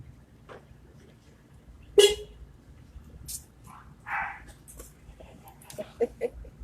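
A small dog barks a few times outdoors at night, short yips scattered and moderately distant over a quiet background hum, with brief voices in between.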